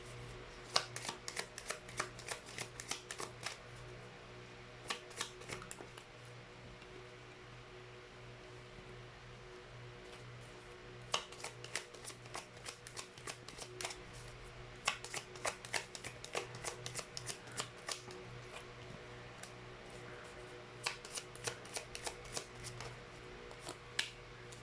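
A deck of tarot cards is shuffled for a pick-a-card reading, close, crisp riffles and flicks in repeated bursts separated by short pauses, quiet and with no voices.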